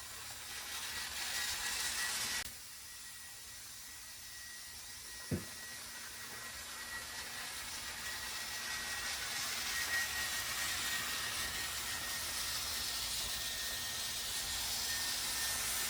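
A Deparee electric air duster runs at full blast with its nozzle removed, a loud steady whooshing roar that drops briefly, gives a sharp click, then swells back to a sustained blowing hiss.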